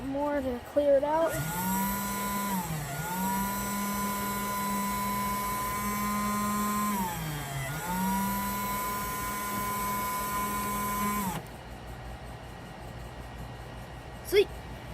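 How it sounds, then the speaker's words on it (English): A steady electric drill whirs continuously for about ten seconds, dipping in pitch twice as it bites into cork, then stops, leaving quiet room tone. "let's drill it a little bit more to clear it out"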